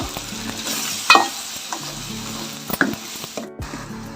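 Mutton curry sizzles and fries in a pan in a home kitchen, with a steady crackling hiss and a few louder scraping stirs of the spoon, close and clear with no talking.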